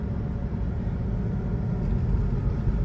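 A Saab 9-3 SE turbo with a five-speed manual pulls along the road under load, its low, steady engine and road rumble heard from inside the cabin, continuous and moderately quiet with no talking.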